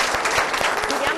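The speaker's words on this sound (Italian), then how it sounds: "un bel applauso a questo campione." Brief burst of audience applause for a young cycling champion at an Italian sports federation event in Veneto, steady and fairly loud over a second, with voices underneath.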